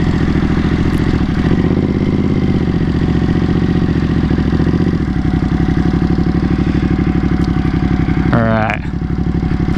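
A motorcycle engine idles loudly up close after the rider pulls over, a steady rapid putter with a brief rev near the end, while someone talks over it.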